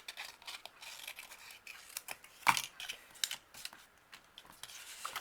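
Scissors snip through pink paper while a cupcake shape is cut out for a junk journal embellishment, giving soft, close, irregular snips with one sharper cut in the middle.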